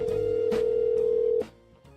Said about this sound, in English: As you can hear the ringing in the background.